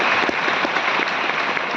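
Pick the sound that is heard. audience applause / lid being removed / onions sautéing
audience applause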